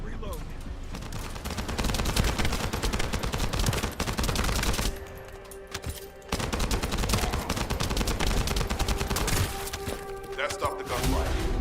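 Rapid automatic gunfire rattles almost continuously in the video game The First Descendant, dense bursts with a short lull midway, mixed with impacts and talking voices.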